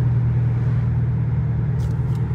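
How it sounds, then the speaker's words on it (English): A Dodge Challenger R/T V8 drops from sixth to fifth gear, giving a deep, steady low rumble from the engine that holds at a constant level throughout the short stretch. "Go to gear 5. Downshift."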